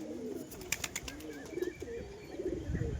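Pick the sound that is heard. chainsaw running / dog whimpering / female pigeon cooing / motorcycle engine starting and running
female pigeon cooing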